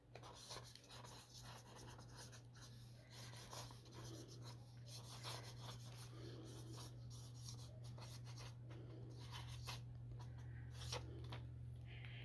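A pen moves across paper laid on a smooth writing board, giving soft continuous rubbing and scratching strokes, quiet and close, over a steady low electrical hum.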